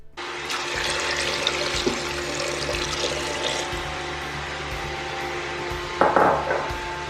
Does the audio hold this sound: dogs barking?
no